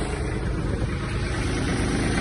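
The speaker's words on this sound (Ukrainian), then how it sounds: "Так, дамо тракторцю трохи прогрітись." Kubota GB-18 Japanese mini tractor engine idling as it warms up, a steady low rumble with constant loudness throughout and no voices.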